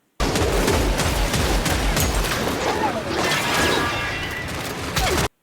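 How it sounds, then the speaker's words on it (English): The ESR 36 sniper rifle in the Killing Floor 3 video game fires repeatedly amid a dense barrage of gunfire, booms and mechanical clatter, loud and sustained for several seconds with no pause. "onto my number 1 slot, the ESR 36 sniper rifle"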